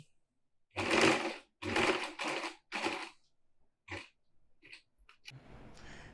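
A sewing machine stitches a rida yoke in several short, loud runs of about a second each, followed by fainter scattered clicks and handling noise.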